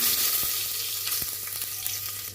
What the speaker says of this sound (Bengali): এর মধ্যে মৌরি আর জিরা ফোড়ন দিয়ে দিলাম, তেজপাতা দুটো দিয়ে দিলাম